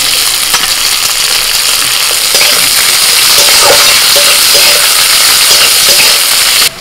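Chopped onion fries in mustard oil with dried red chilli, nigella seeds, green chillies and garlic cloves, giving a loud, steady sizzle that carries on alone, close and unbroken.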